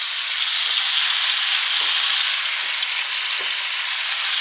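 A full pack of bacon fries in a pan, a loud, continuous sizzle and crackle with small pops scattered throughout and no voices.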